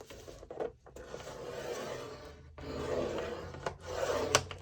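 Two 11 by 17 inch paper sheets are scored, giving faint, close rasping strokes that rise and fall with brief gaps.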